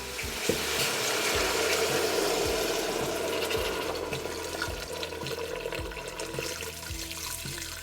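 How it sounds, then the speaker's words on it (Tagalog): Water splashes and pours into a pot of beef shank over a soft sizzle, with faint clinks and stirring sounds; no talking. "Then add water."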